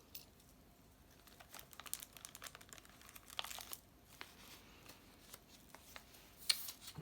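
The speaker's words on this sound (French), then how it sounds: "Là, il y a un petit papier vieilli." Small piece of aged paper handled for a lace-trimmed junk journal agenda: faint, close crinkling and rustling with scattered soft crisp ticks, quiet throughout with a few sharper crackles near the end.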